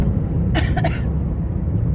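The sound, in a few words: woman coughing in a car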